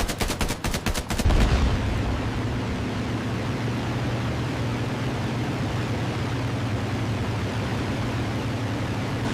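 World War II machine gun fire with tracer bullets aimed at a circling Japanese Zero: rapid, sharp bursts crackle in the first second, then give way to a dense, sustained roar of gunfire and noise.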